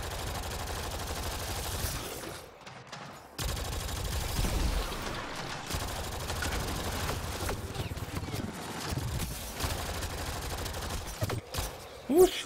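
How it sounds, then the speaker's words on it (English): Gunfire from the Mass Effect Andromeda game crackles through a busy, continuous battle mix of rapid bursts and impacts, with a brief lull partway through and louder shots near the end. "Who's shooting at me?"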